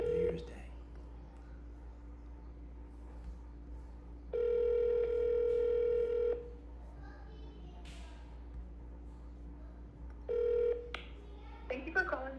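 A phone call to Utopia Martial Arts rings out as two long, steady electronic ring tones several seconds apart over a quiet line, with light handling clicks near the end.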